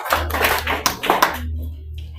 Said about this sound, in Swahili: Pigia Yesu Kristo makofi kwa sababu anasema ukweli.